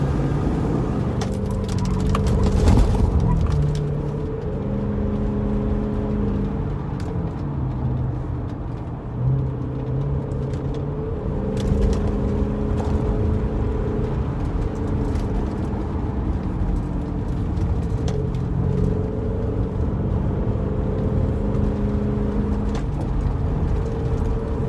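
A Mercedes E400 W211 cruises gently below 60 km/h, its engine and road noise a steady loud hum from inside the cabin with shifting tones as it changes gear, with no talk over it.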